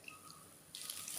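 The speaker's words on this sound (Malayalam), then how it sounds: "അതിലേക്ക് കുറച്ച് വെള്ളവും കൂടെ ഒഴിച്ച്" Water poured into a pan of simmering netholi (anchovy) peera curry: a faint, brief trickle that swells into a soft, steady splashing hiss partway through.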